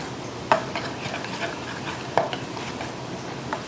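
A relish mixture for fish and chips being stirred in a bowl, soft scraping and swishing with two sharp clinks of a utensil against the side, quiet and close with no talk.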